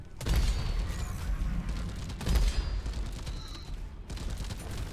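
Rockets from the Bosco drone in Deep Rock Galactic: a dense, loud barrage of rapid blasts and booms, with two heavier bursts near the start and middle, fading into scattered pops.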